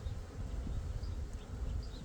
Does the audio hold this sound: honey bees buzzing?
yes